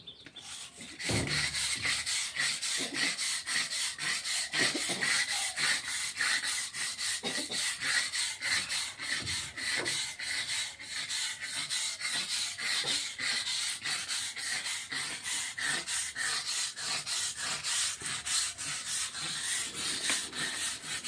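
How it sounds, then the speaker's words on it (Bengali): Continuous rapid scrubbing of a brush over the wall of a concrete water tank coated in moss, loud and close with a steady back-and-forth rasping rhythm and no talking. "এটা এখন ঘষবো, ঘষে তারপরে ব্লিচিং পাউডার দিয়ে ঘষে তারপরে ধুয়ে দেবো"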